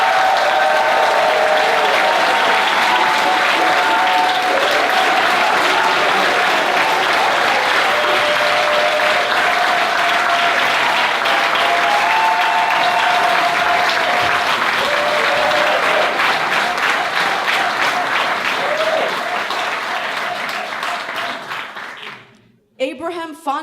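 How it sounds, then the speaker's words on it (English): A large audience at an international speech contest in Marseille breaks into sustained, loud applause, dense clapping holding steady for over twenty seconds before tapering off sharply at the end. "please put your hands together in a warm Megatronic applause for Abraham van der Pfeiffer."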